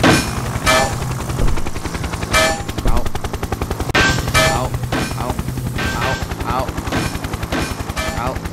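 Guns fire rapidly in the video game Happy Wheels, with steady, loud automatic gunfire broken by several heavier blasts, all close up.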